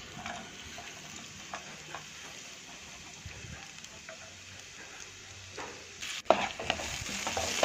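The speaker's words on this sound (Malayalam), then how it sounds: "ഇത് സ്ലോലി ആയിട്ട് ഫ്രൈ ആക്കും" Onion and tomato frying slowly in oil in a kadai, a steady low sizzle with scattered scraping stir clicks, growing louder and more clattery near the end; no one talks.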